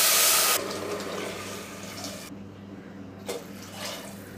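Water pours into a cooking pot for rice and lentil sundal, starting with a strong splashing rush that fades into lighter trickling and sloshing, close by and with no talk.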